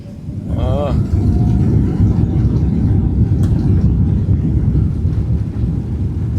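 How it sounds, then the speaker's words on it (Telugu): A loud, steady roar of a jet engine builds and holds during takeoff, heard from inside an Emirates plane leaving Dubai, with a brief voice near the start. "మన ఫ్లైట్ అయితే టేకప్ అయిపోతుంది"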